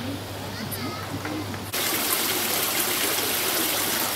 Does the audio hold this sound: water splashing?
yes